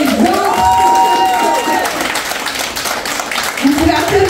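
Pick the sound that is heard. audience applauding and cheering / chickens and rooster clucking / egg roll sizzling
audience applauding and cheering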